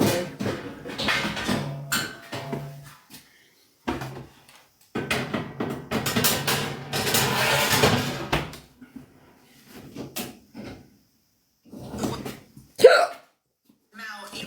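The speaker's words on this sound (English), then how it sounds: "You've got hiccups." A person hiccups several times in a casual indoor setting, short abrupt hiccup sounds scattered among stretches of conversation, with a sharp one near the end.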